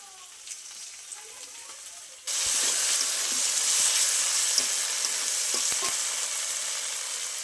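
Ground cumin and coriander paste drops into hot oil with fried ginger and garlic, bursting into a loud, steady sizzle after a quieter start, with a few faint utensil taps throughout.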